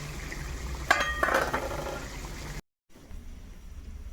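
Red amaranth greens going into a cooking pan over fried spice paste, with a few sharp metal clinks of a utensil against the pan above a steady sizzling hiss, then a brief silent cut and quieter frying noise.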